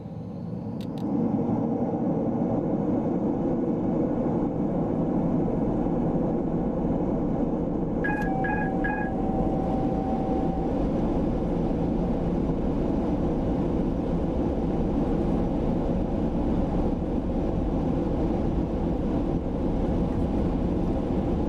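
Steady loud rumbling whine of PMDG 737-800 engines spooling up in Microsoft Flight Simulator, a continuous droning roar filling the whole stretch with a brief chime partway through.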